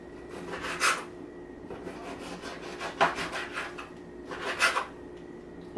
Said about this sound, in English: so I trim that fat off